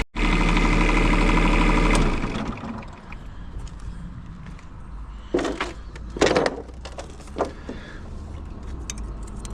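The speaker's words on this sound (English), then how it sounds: "start the engine, let it run up so the filter fills up with oil" Bobcat E10Z micro digger engine starting up loud and steady for about two seconds, then dropping to a low idle rumble with scattered clunks and knocks nearby.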